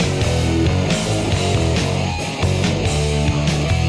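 A re-recorded version with replaced drums and bass plays as full, loud hard rock, with driving bass, distorted guitar and steady drums throughout.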